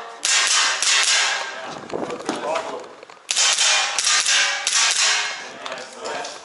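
Gas blowback airsoft pistol firing while running low on gas, giving a few loud sharp cracks with weaker hissing tails, heard up close in an indoor range, with a pause between bursts.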